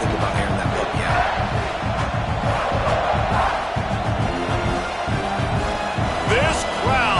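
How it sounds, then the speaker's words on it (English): A loud stadium crowd roars and cheers at a football game, a dense, sustained wall of voices throughout with a commentator talking over it. "This crowd, full throat, spreading the eardrums and letting them know it's going to be a long day."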